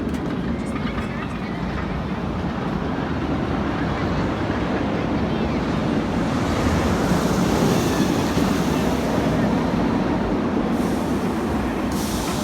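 Top Thrill Dragster roller coaster train at Cedar Point in Sandusky, Ohio, a steady loud rumbling roar of rolling cars filling the whole stretch, with people talking underneath.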